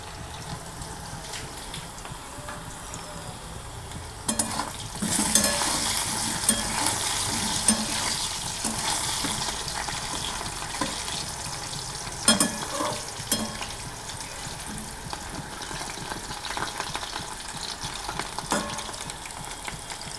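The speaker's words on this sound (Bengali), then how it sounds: "আলুটা নেড়ে চেড়ে ভাজছি" Potatoes frying in a pan while being stirred, a steady sizzle with scraping spoon strokes and occasional louder bursts, close and continuous with no talking.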